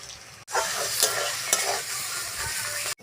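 A ground spice paste hits hot oil over onions fried until reddish for a Bengali vegetable and fish dish. It gives a loud, steady sizzle and crackle as it is stirred, with brief pauses at the start and end.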